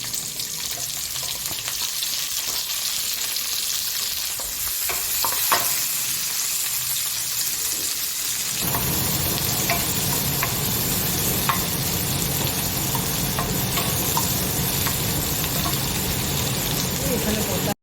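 Onions and onion leaves fry in a pan, a steady, close sizzle that grows louder and denser partway through, with stirring scrapes and clinks over it. A voice speaks now and then.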